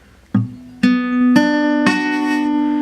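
Guitar notes of a chord played with too little finger pressure, four plucked strings in slow sequence with the later notes ringing thin and buzzy, close and alone.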